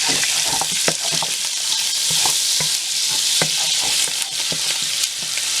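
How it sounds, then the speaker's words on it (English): Okra and shrimps frying in a pan over medium heat, a bright steady sizzle with frequent utensil scrapes and taps as the food is stirred, close and fairly loud, no talking. "And go ahead and fry this up a little."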